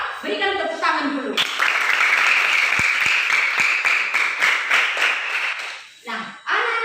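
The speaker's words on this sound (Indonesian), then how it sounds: "Berikan tepuk tangan dulu." A group of schoolchildren in a classroom bursts into loud, sustained applause lasting several seconds, with an adult voice talking briefly before and after.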